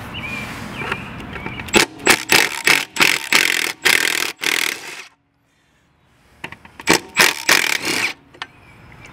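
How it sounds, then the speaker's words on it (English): A power tool drives out the two bolts holding the belt cover on a Toro Personal Pace Smart Stow lawn mower, in short loud whirring bursts, a pause, then another run of bursts. "So we're gonna pull these two bolts here"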